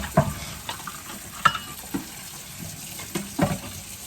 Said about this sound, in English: I'm gonna go ahead and run me some water so I can do dishes.